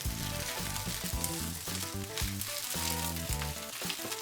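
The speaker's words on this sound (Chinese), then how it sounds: "白菜帮需要多炒一会儿，炒软，至少需要1到2分钟。" Chinese cabbage stalks are stir-fried in a wok of hot oil with scallion, garlic and chili, making a dense, continuous sizzle close up, with spatula strokes and scrapes repeating through it and no speech.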